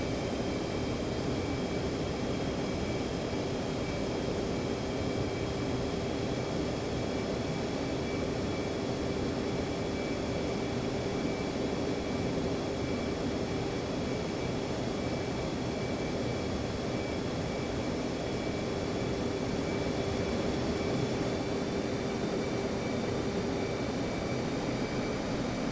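F-15C jet engines spool at full military power during a takeoff roll in the DCS flight simulator, a loud, steady broadband roar with a constant whine running unbroken throughout.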